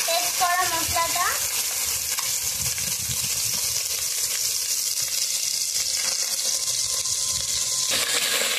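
Spice paste fries in white oil in a pan for chicken labābdār, giving a steady, close broadband sizzle throughout, with a brief stirring scrape near the start and no talk.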